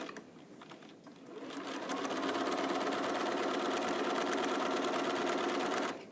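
A sewing machine runs a long seam on a neck cooler, starting after a second of quiet and holding a steady, close, rapid mechanical hum until it stops near the end.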